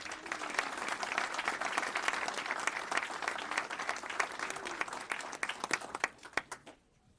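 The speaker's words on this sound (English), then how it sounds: "Let's give another round of applause." A city council meeting audience gives a round of applause, a dense wash of clapping at moderate distance that carries on steadily before thinning into a few scattered claps and fading out.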